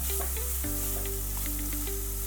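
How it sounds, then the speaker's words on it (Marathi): Grated carrots sautéing in ghee give a soft, even sizzle with faint scattered crackles and no voices. "आता आपण हे गाजर किसून घेतले होते ते टाकून घ्यायचे दोन मिनटं चांगलं असं परतून घ्यायचे"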